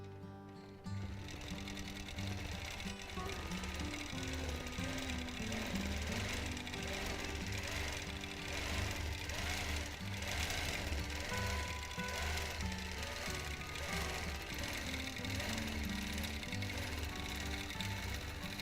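A sewing machine doing free motion quilting on a custom mountain-themed quilt runs steadily and loudly, its rapid stitching hum continuous and close for the whole stretch with no talking.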